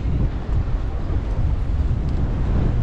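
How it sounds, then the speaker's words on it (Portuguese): Strong wind blows steadily at a kitesurfing beach, a constant low rumbling buffet against the microphone with no pauses or talking. "Mas é vento. O tempo todo ventando aqui."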